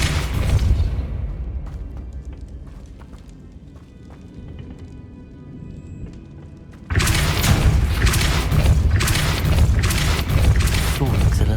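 A Depulso spell cast in Hogwarts Legacy, a sudden loud forceful blast that breaks a quiet stretch and is followed by sustained heavy rumbling and thumping.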